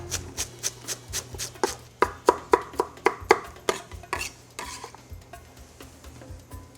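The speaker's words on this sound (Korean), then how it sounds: "부추를 잘잘하게 썰어서 넣어 줄 거거든요" A knife chops chives on a cutting board for cucumber kimchi stuffing, with about twenty quick, crisp taps in a steady rhythm that slow and soften toward the end.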